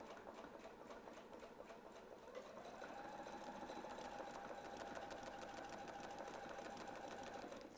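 A sewing machine stitches steadily around a quilting template, running as one continuous mechanical whirr that grows a little louder partway through. No one speaks.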